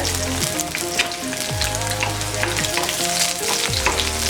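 Garlic and green chillies fry in a pan for an eggplant roast, giving a steady close sizzle with a light stirring rattle, while tonal music plays alongside.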